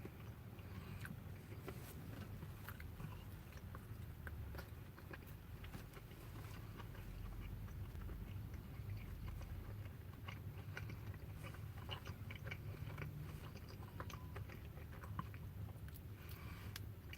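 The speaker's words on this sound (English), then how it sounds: "that bite's got a good flavor. Tasting that beef patty" Close, quiet chewing of a Burger King Whopper with bacon, beef patty, pickle and sauce, soft steady mastication with faint moist crunches and no talking.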